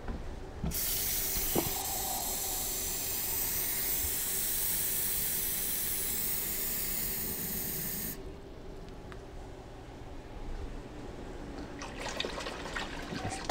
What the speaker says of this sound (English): Now we're going to add 4 cups of water.